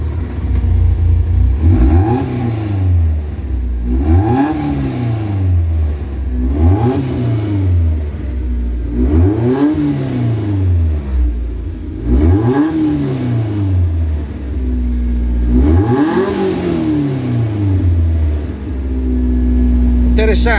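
A Lotus Seven sports car engine with a warm motor revs up and drops back about seven times in a row, loud and close, with someone talking between the revs.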